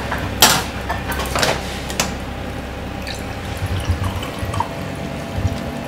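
A chilled Fleur de Bamboo cocktail is poured into a glass at a bar, giving a few short liquid splashes and drips early on, then a quiet stretch of low room hum with no talking.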